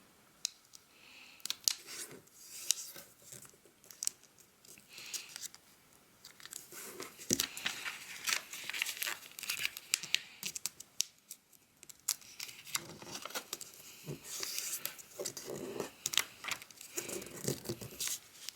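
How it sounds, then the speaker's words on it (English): Close, quiet paper handling while folding an origami fox bookmark: crisp creasing, rustling and crinkling strokes in irregular bursts. "we will fold the two sides towards the center crease we've just made"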